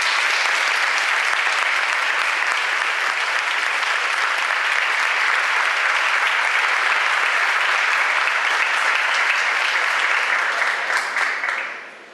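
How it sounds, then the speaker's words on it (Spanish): Loud, sustained audience applause at an academic lecture welcoming philosopher Gianni Vattimo after his long trip from Italy, a dense even wash of clapping holding steady for about eleven seconds before tapering off at the end. "recibirlo con un muy fuerte aplauso"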